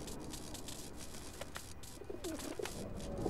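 Soft pigeon-like cooing from a bird in the video game LEGO The Incredibles, a few low rounded coos in the second half over a faint busy game ambience, with no speech.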